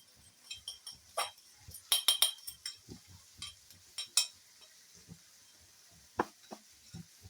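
Spices being stirred into bitter gourd (karela) frying in a pan, with a spoon or spatula clinking repeatedly against the pan in quick irregular bursts over a faint sizzle.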